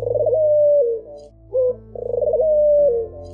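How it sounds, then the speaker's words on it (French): A turtle dove coos in two clear, close phrases, each a purring, rolling call that slides downward, with a brief pause and short note between them. "imiter le chant de la tourterelle"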